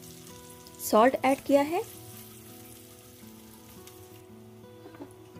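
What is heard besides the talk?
cumin, crushed and green chilies frying in oil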